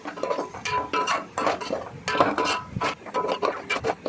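Spice masala of turmeric, garam masala and coriander powder fries in a pan while a utensil stirs it. Close, irregular scraping and clinking of metal on the pan rises and falls in bursts.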